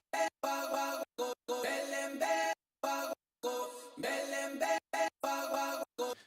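Looped vocal chop sample playing in Ableton Live, short choppy sung fragments cut into a stuttering rhythm with crisp silences between, repeating alone without talk.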